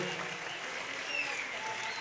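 Crowd clapping at a Turkmen wedding celebration, a soft, steady patter of many hands heard at a distance, fairly faint against the hall's ambience, with no speech over it.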